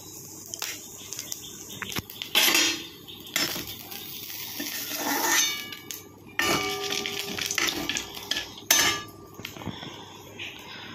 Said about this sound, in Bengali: ফোড়নে আবারও বলি, দিলাম গোটা জিরে, তেজপাতা, শুকনো লঙ্কা,